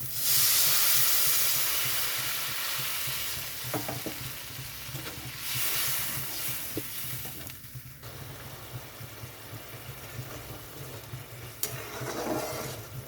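Water hits a cooked-down spice paste in hot oil for a chela fish curry, bursting into a loud hiss that settles into softer sizzling with stirring clatter.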